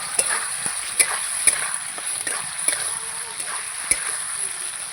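Potatoes being sautéed with spices in a pan, a steady hiss with periodic scraping clicks of a spatula, under a voice talking.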